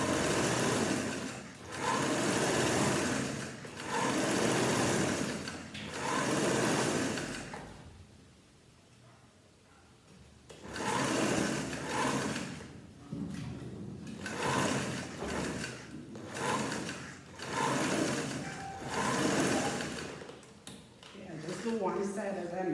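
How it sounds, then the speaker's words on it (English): Sewing machine top-stitching the facing on a vest, running in several sustained bursts with short pauses, close and fairly loud, with a person talking between and over the runs. "So this is your top stitching of your facing."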